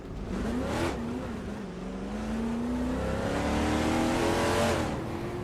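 A 1972 Ford Torino racing engine in a video game revs hard and climbs through gears, a loud continuous roar that shifts in pitch with one brief whoosh as the car accelerates.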